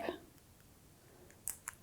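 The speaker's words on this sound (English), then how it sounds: "using my scissors, I'm going to snip" Scissors snip a leaf strip during a bee-in-a-jar craft, giving two quick, crisp cuts close to the mic near the end, after a brief burst of sound at the start.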